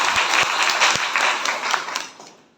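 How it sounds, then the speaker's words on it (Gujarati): An audience at a business training event breaks into loud applause, a dense burst of clapping that fades out within a few seconds. "તો સાહેબ માટે એકવાર જોરદાર તાળી આપો."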